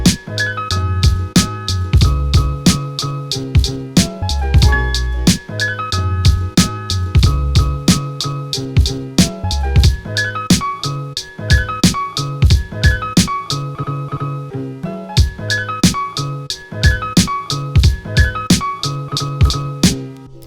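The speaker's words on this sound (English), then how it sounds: "That's my first ever MPC beat." A hip-hop beat programmed on an MPC, with punchy kicks, crisp snares and rapid hi-hats over a looping melodic sample, steady groove, briefly dropping out midway.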